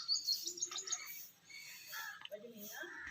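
Pigeons and a newly hatched pigeon chick give thin, high chirps and peeping calls in short bursts, close by and fairly soft, with faint low murmuring underneath.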